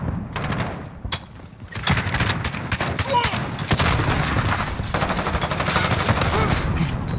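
Rapid gunfire in Modern Warfare, including an Origin 12 shotgun, with repeated loud blasts and bursts packed close together, continuous game action and a player reacting over it.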